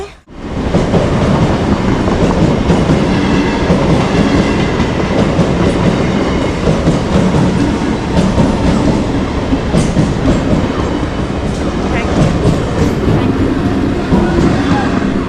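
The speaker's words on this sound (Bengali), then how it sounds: "রেল লাইনের গেট পড়ে গেছে এবার ট্রেন যাবে" A train rumbles past a railway level crossing with its gate down, on a line near Jadavpur toward Baghajatin in Kolkata, producing a loud, steady roar with rhythmic wheel clatter throughout.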